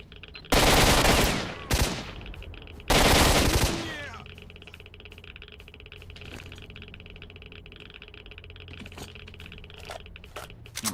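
Automatic gunfire in S.T.A.L.K.E.R.: Shadow of Chornobyl comes as two loud, close bursts of rapid shots, then a quieter stretch of faint clicks and ambient game noise.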